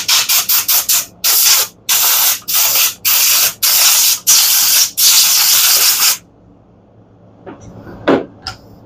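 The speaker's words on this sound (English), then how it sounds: "a little bit of air, a little bit of WD-40 or some kind of lubricant" Repeated loud bursts of aerosol spray as WD-40 lubricant is applied to the recoil starter of a Honda small engine, short squirts followed by longer ones, then a quiet tail with faint handling noise.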